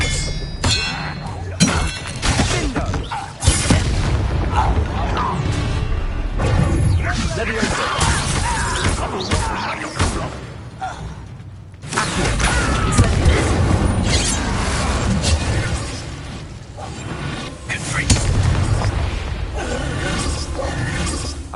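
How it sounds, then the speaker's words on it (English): An Expelliarmus spell blast in the Hogwarts Legacy video game, with sharp booming clangs and thuds in a dense, loud magical duel mixed with game music and effects, broken by a brief drop near the middle. "Expelliarmus!"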